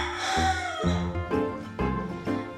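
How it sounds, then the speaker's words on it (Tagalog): A chicken crows near a house under construction, a drawn-out cry followed by a few shorter calls, moderately close and fairly faint, with no talk over it. "Naririnig niyo ba yung manok?"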